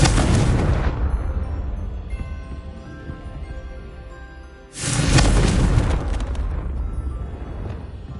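Two heavy Confringo spell blasts in Hogwarts Legacy, each a loud booming explosion with a long rumbling tail, the second following about four seconds after the first.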